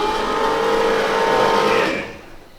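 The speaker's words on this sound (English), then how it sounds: "So, bit of cold start." A turbocharged V8 engine in a ute runs loud and steady at a high idle on a cold start, a droning hum with a scavenge pump whine, then suddenly drops away as it shuts off.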